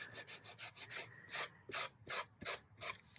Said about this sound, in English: I'm just going to grab the sanding block